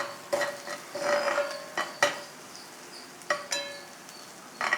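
Onions sautéing in a pan as a sauce for vangi bath is cooked, a soft steady sizzle broken by sharp scrapes and clacks of a spoon stirring at irregular intervals.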